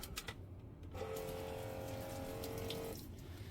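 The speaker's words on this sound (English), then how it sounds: "It's got running water." Water runs from a tap into a sink inside a tiny home, a steady close hiss lasting about two seconds with a faint tonal whine, then stopping, with no talking.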